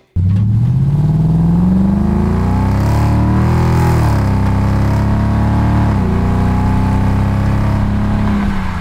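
A Ford Mustang GT (S197) V8 with a MagnaFlow cat-back exhaust and 4-inch tips revs hard, rising and falling in pitch, loud and close, with no talking.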